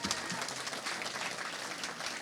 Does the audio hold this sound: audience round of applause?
yes